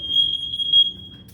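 A high, steady electronic tone from two interconnected household smoke alarms sounds continuously at moderate loudness, with a low hum underneath.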